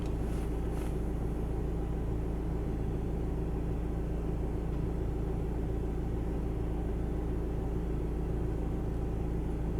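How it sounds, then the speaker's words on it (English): The air-conditioning fan in a 2016 Volkswagen CC cabin gives a steady, soft whooshing hiss, even and unbroken throughout, with a faint low rumble beneath and no voices. "I could hear the tiny whispering, the tiny noise from the AC"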